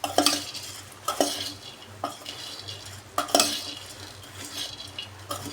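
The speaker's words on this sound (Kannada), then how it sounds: "ಇದಕ್ಕೆ ಸ್ವಲ್ಪ ಟೊಮೆಟೊ, ಇದನ್ನೆಲ್ಲ ಈ ರೀತಿಯಾಗಿ ಮಿಕ್ಸ್ ಮಾಡಬೇಕು." Puffed rice girmit being mixed by hand with tomato in a bowl: a series of soft, close rustling crunches in irregular bursts, each stir separated by brief quieter pauses.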